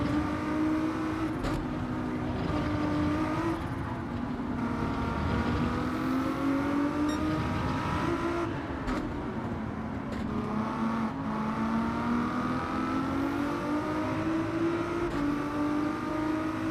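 Race car engines drone continuously in Gran Turismo 7 during a daily race at the Deep Forest circuit, pitch rising and falling through gear changes, loud and steady with occasional clicks.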